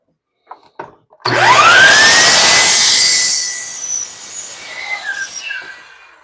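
A power saw spins up with a rising whine and bites into a wooden piece, trimming its bottom, loud for a couple of seconds, then winds down with scattered rattles.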